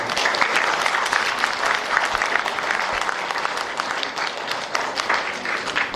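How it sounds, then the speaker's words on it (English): An audience at a program kickoff ceremony gives a rowdy round of applause, a thick, continuous wash of many hands clapping loudly for the full stretch. "join me in giving them a rowdy round of applause"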